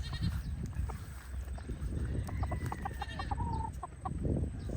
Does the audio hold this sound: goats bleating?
yes